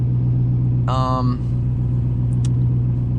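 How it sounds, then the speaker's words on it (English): A car engine, running on E85 fuel, idles with a steady low hum throughout, with a brief voice in the middle and a small click later on. "Car's still running, not sputtering yet."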